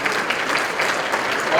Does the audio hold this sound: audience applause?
yes